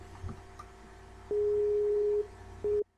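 Tones sound during an outgoing telephone call, with a faint click, then a long steady ringback tone that stops and comes back briefly, quiet and with nobody talking.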